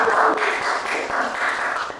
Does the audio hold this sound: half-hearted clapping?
yes